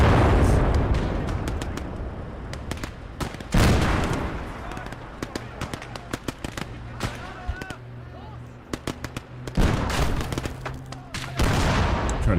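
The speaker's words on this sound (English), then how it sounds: "we're gonna greet them with a bombing run here" A World War II bombing run in the strategy game Call to Arms - Gates of Hell: Ostfront, with heavy booming explosions, scattered gunfire and artillery rolling across the battlefield, loud at first, quieter in the middle, then surging again.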